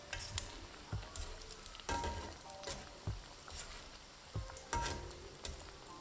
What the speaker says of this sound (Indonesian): Lalu masukkan 1 persatu adonan ayam ke dalam penggorengan